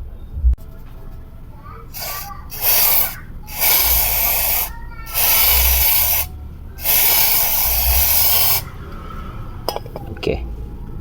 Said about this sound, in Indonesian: Jadi kalau ini sih tinggal disemprot saja pakai brake cleaner.